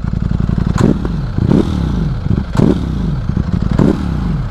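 A parked motorcycle on its stand is revved hard in four or five sharp bursts, each engine roar climbing and dropping back to a rough idle. Very loud and close, with no talk.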